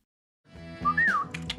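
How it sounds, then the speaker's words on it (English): A person whistles a short rising-and-falling tune, fairly close, with a couple of quick clicking sounds right after the whistle. "What's this thing you do, the whistle with the clicking sound?"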